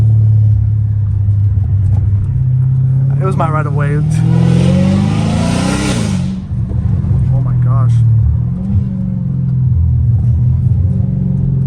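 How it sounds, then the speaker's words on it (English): A Hellcat Redeye with a catless catback exhaust rumbles loudly and revs hard in a rising then falling surge, heard from inside the car with a driver talking over the engine. "This car is too freaking loud."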